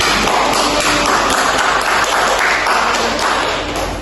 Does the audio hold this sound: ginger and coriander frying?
no